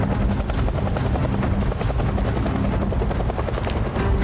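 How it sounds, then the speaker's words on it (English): Helicopter in the Project Zomboid game passes overhead with a loud, continuous rotor thump and engine drone that fills the whole stretch. "the helicopter's not the worst thing right now because it's just gonna drag more"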